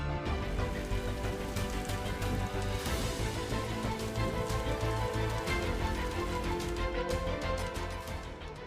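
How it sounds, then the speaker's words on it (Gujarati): Dense, loud downpour of heavy rain in Maliya Hatina, Junagadh, Gujarat, pounding surfaces continuously, a thick roar with no pauses. "જૂનાગઢના માળિયા હાટીના વિસ્તારમાં ધોધમાર વરસાદ"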